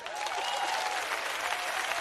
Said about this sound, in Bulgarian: Аплодисменти за Таркан.